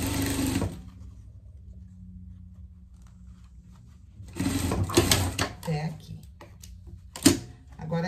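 A sewing machine stitches along the seam of a pet vest in a short burst at the start, then pauses and runs again in uneven bursts with clattering, close and fairly loud, while someone talks over it.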